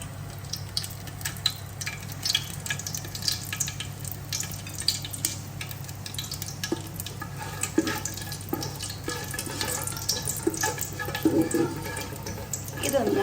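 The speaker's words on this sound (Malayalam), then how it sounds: "ചെറുതായിട്ടൊന്ന് നമുക്ക് ഇളക്കി കൊടുത്തുകൊണ്ട് അതൊന്ന് ചൂടാക്കിയെടുക്കാം" Whole spices heat in ghee in a pan for Malabar ghee rice, a steady low sizzle with light crackles and occasional stirring scrapes running throughout, close and even, with some talking over it.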